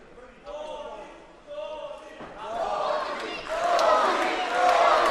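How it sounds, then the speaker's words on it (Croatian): Crowd noise rises at a BFC 2 MMA fight between Marko Antonio Crvenković and Urh Krajnčan, swelling from a murmur into loud, sustained cheering and shouting that builds toward the end, with a commentator's voice over it. "Čujemo sad i publiku."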